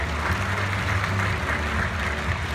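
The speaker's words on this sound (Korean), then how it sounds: "환영의 박수 부탁드리겠습니다" Steady applause from a seated audience at a bank's launch ceremony, welcoming an introduced guest. It is a dense, continuous wash of clapping at moderate level with a low hum underneath, and no voices.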